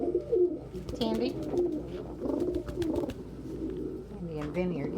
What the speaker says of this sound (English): There are so many birds on me. So many birds.